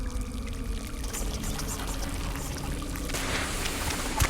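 Water leaks and pours from a pipe in a sewer in the horror game Daylight, a steady splashing trickle that continues throughout, with a brighter burst of splashing toward the end and no speech.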